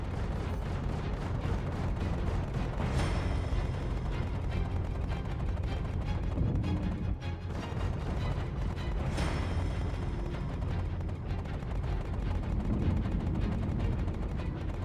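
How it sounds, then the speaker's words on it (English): Cannon salvos traded between spaceships, a Mantis and an Arrow, in the space combat game Star Citizen: a dense, loud, continuous barrage of booming shots with sharper bursts near the start and middle, no talk. "The Mantis cannon rounds connected with precision on the initial approach, but the Arrow would not be so quickly undone and returned salvos of its own"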